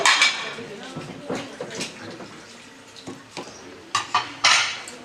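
Nuns wash dishes in a convent in Matadi, Congo. Plates and cutlery clink and clatter in scattered bursts, with water splashing, close by, while voices murmur faintly in the background.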